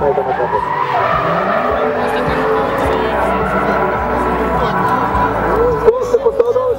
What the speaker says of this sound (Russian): вылетел за пределы трассы, развернулся